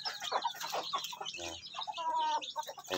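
A native hen in a breeding pen clucks in short, close, repeated calls mixed with other nearby chicken sounds, fairly busy and continuous over about three seconds.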